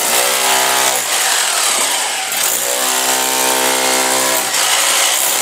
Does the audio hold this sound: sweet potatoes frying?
no